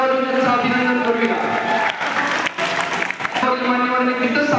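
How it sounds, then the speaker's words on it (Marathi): Applause at a state-level silambam championship prize ceremony as the fourth-place trophy is given, a steady round of clapping under continuous talk from a voice on the PA. "जोरदार टाळ्या वाजवून त्यांचं अभिनंदन करूया"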